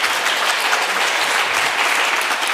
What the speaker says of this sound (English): Can we please have another round of applause for